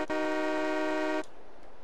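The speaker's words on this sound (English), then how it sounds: "Got your train horn." A train horn fitted to a JM Garcia monster truck mod in Farming Simulator 22 blares as one sustained, loud, steady chord for just over a second, then cuts off sharply to quiet.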